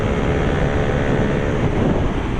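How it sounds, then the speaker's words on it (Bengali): A trailer truck passing on a busy, congested road heard as a loud, continuous low rumble and roar of engine and tyres, close and steady with no talk. "ও ভাই ট্রেনার যাচ্ছে ভাই, ট্রেনার যাচ্ছে ভাই ওই রোডটায়।"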